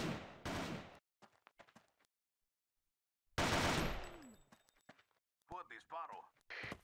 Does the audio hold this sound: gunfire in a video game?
yes